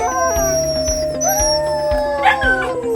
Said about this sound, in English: the neighborhood dogs start howling and it drowns me out